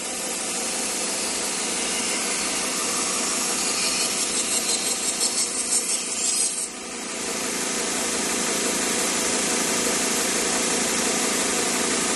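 A 1x30 belt sharpener runs continuously with a steady hissing whir as a knife is sharpened on a 1200 grit belt, with a short stretch of rhythmic scraping strokes before the pitch drops slightly and the grinding carries on alone.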